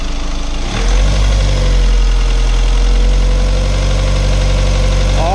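A car engine being revved during diagnosis of a faulty MAF sensor: a steady idle, then a sharp rise after a second into a sustained loud, even drone that holds and begins to shift near the end.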